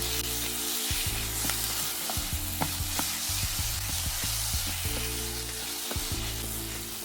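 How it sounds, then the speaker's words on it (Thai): Rice stir-fried in a pan with nam prik num chili paste gives a loud, steady close sizzle throughout, broken by sharp clicks of the spatula scraping and tossing. "เราผัดไปจนแห้งประมาณนี้นะคะ"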